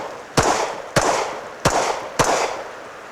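A handgun fires four sharp, evenly spaced shots while the shooter advances on foot during a shoot-and-move drill. Each crack is loud and close, followed by a brief ringing decay.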